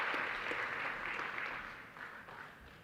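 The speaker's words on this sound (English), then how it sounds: "Please give them another round of applause as they make their way off stage" Applause from a conference audience as panelists leave the stage at an African markets event, steady and moderately distant, fading slightly toward the end.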